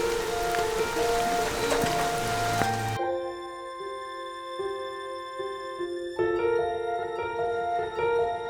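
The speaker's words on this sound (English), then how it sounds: "And of course the day we plan to do this, it starts to rain." Rain pours steadily on a house building site with the scaffold coming down, a dense hiss for the first few seconds before giving way to a clear tonal melody.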